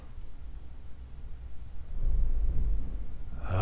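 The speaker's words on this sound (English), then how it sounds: "More thunder." Low thunder rumbles in the distance, swelling into a deeper, louder roll toward the end over a steady background hiss.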